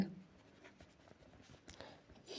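A pen writes by hand on paper while someone works through a triangle problem in a maths lesson. Faint, close scratchy strokes come in short bursts, quiet throughout, with a soft bump at the very end.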